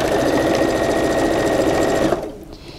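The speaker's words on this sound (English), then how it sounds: "So then I'm just going to sew this on to the right side of the block" A sewing machine stitches a strip of fabric onto a 12 by 18 inch quilt block center piece, running in a steady close whir for about two seconds before stopping.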